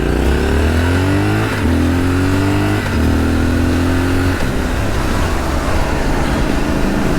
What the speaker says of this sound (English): running out around 90 horsepower with the great sounding Arrow carbon exhaust system fitted to the demo unit